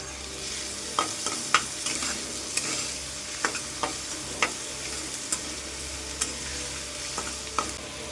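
Chopped garlic and ginger frying in a pan alongside onions, with a steady low sizzle broken by regular sharp clicks of a spoon stirring against the pan, close up and with no voices.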